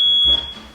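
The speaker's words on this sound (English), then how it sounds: "That's our alarm." A shrill electronic alarm beep signaling the end of a wrestling podcast show, one loud steady tone that cuts off abruptly after a fraction of a second.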